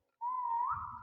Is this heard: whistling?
yes